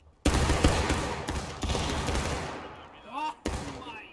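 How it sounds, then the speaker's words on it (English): Musket volleys in the Civil War game War of Rights: a loud ragged crackle of many shots at once, with a few more separate bursts and rolling echoes after it, and distorted voices talking briefly near the end. "Company, fire by company, make ready."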